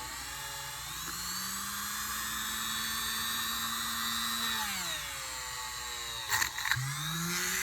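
A Dremel rotary tool with polishing compound buffs a sterling silver ring, giving a continuous high steady whine that dips in pitch briefly before spinning back up, with a couple of scraping bumps near the end.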